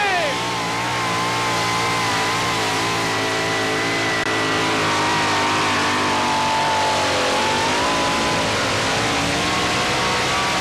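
A GMC two-wheel-drive pulling truck roars at full throttle at a truck pull in Hamburg, NY. The engine drone is loud and sustained, with pitch shifting slightly as it strains, and an announcer's voice can be heard faintly beneath it.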